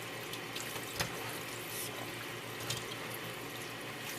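Tap water runs steadily into a kitchen sink while onions are rinsed, a continuous close splashing hiss with a few small knocks and clatters over the flow.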